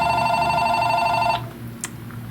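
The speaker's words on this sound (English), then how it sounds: "we had to answer the phone" A telephone rings indoors with a bright steady electronic trill that cuts off abruptly partway through, leaving a quiet room with a faint click after it.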